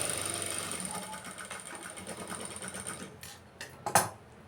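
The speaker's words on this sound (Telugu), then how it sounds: "రెండో కుట్టు అండి, 2 కుట్లు వేసుకోవాలి." A sewing machine stitches a back-part seam with a steady, near, rapid mechanical whirr and clatter. It slows and stops near the end, where a brief sharp click follows.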